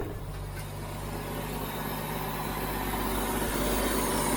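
A Jeep CJ-7 engine idles at about 1,000 RPM with the choke still on, a steady, close, low rumble that grows slightly louder toward the end, with no speech.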